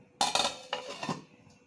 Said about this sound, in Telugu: సో ఇప్పుడు మరుగుతుంది, ఇది మనం మూత పెట్టేద్దాం.